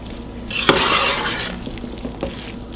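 Noodles are folded into a pot of grandma-style chicken stew, giving a wet, squelching stir of thick liquid, close and moderately loud, with a few soft utensil taps against the pot afterward.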